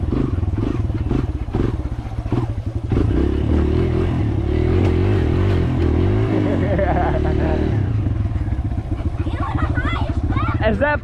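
A Kawasaki KLX dirt bike engine revs hard at full throttle, a loud buzzing whine that rises and falls with clattering, while people talk and a voice is heard nearby.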